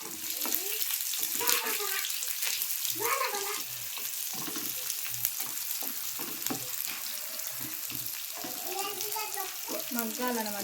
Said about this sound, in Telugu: తర్వాత ఆనియన్స్ని కూడా వేసేస్తున్నాను